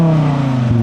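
Volkswagen Golf 7R tuned to 1000 hp, its engine holding a steady, loud low drone with strong harmonic hum, idling or revving lightly close by for under a second, no voices.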